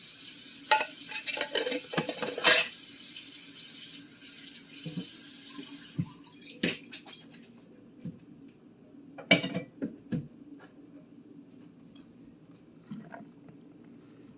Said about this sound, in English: And mix it around here.